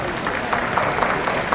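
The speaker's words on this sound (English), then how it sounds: "give applause once again to all the panelists." Audience applause for a panel of speakers at a halal industry forum, a steady, dense patter of many hands clapping at moderate volume with no talk over it.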